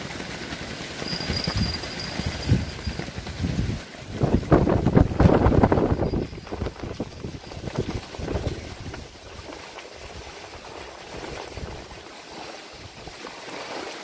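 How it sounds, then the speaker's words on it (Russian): Gusty wind roars against the microphone in uneven bursts, swelling loudest in the middle before easing to a lower rush. "Несмотря на ветер."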